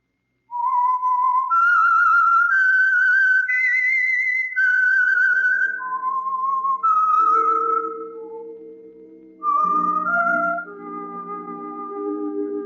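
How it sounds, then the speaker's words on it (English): Whistled theme signal of the Whistler radio program, a lone clear melodic whistle with sustained, sliding notes, then joined by a low orchestral chord under the final phrase, close and alone. "That whistle is your signal for the Signal Oil program, The Whistler."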